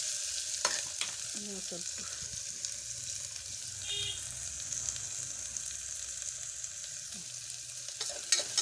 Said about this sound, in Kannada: ಈಗ ಉಳ್ಳಾಗಡ್ಡಿ ಕರಿಬೇವು ಹಾಕ್ತೀನಿ. ಸ್ವಲ್ಪ ಕಜ್ಜಾಡ್ಸ್ತೀನಿ ರೀ ಉಳ್ಳಾಗಡ್ಡಿ.